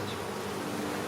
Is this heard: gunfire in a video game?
no